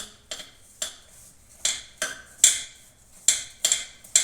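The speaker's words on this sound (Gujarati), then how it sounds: "લીલા સુધારેલા મેથી પાલક લસણ બધું મૂકી આવી રીતના આપણે મિક્સ કરી લઈશું" Chopped fenugreek leaves, spinach and garlic are mixed by hand into a bhajiya batter with carom seeds in a bowl, giving a string of sharp, irregular clicks and taps about twice a second, close and moderately loud.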